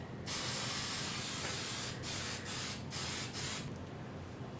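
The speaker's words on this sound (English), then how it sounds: "The other thing I like to use is hairspray." Hairspray is sprayed onto hair in several hissing bursts from an aerosol can: one long spray, then a quick series of short puffs, each sharp and close with brief gaps between them.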